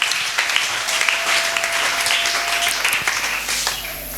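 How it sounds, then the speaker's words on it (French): Steady applause from a congregation at a wedding service, acclaiming the word of God: many hands clapping together, loud and close, filling the whole moment with little else over it. "Acclamez la parole de Dieu"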